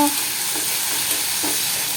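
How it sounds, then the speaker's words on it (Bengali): Spices frying for a potato and pointed gourd curry give a steady, close sizzle and hiss, with faint stirring scrapes at intervals and no talking. "মশলা কষানো হচ্ছে আলু পটলের জন্য"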